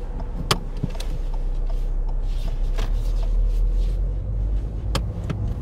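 A car moving off on a narrow road during a driving test, heard from inside as a steady engine and road rumble with faint clicks and knocks, fairly constant throughout.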